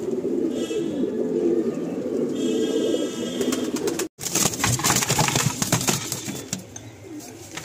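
Restless crested fancy pigeons in a home loft coo in a dense low chorus; halfway through there is a brief dropout, then sharper clattering and wing-flapping bursts join the cooing.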